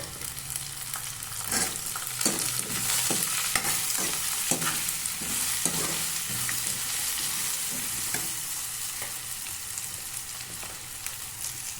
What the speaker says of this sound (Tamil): முள்ளங்கி நல்லா வதங்கிடுச்சு